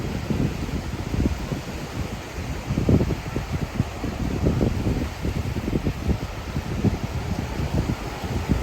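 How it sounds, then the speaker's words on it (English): Gusty wind at Myrtle Beach buffets the microphone with a continuous low roar and rumbling surges, steady throughout and fairly loud. "there's a little wind. It's picking up right now as I talk"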